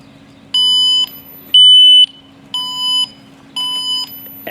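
A Cleanrth bird repeller gives loud, piercing electronic alarm tones in four evenly spaced half-second bursts over a low steady hum.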